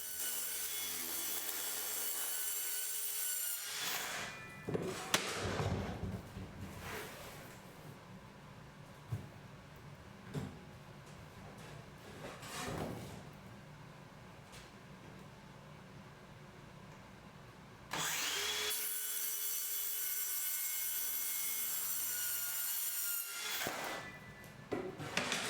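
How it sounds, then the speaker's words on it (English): A circular power saw cuts plastic panels for wood-and-glass pantry doors, with loud, sustained whining passes at the start and near the end and quieter scraping and handling of the panels in between. "total overkill using a power saw on the plastic"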